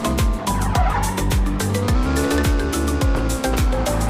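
Car driving and skidding in the video game Car Simulator 2, a steady engine drone with repeated revving pitch sweeps and tire squeal, loud and continuous without voices.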